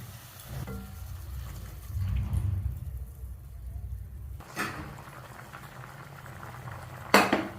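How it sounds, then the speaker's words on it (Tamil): Steady low bubbling of chicken curry (kulambu) on the boil in a pot, with a few clinks of a utensil against metal and a sharp clatter near the end. "இப்போ இது நல்லா கொதிக்க ஆரம்பிச்சிருச்சு"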